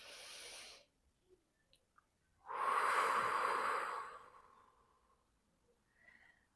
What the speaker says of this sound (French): Inspirez profondément.